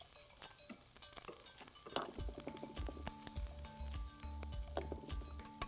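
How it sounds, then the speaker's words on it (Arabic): Halloumi cheese frying in a pan, crackling sizzle with intermittent utensil scrapes and taps against the pan, fairly quiet and close. "كيف هذه القلية المثالية للحلوم"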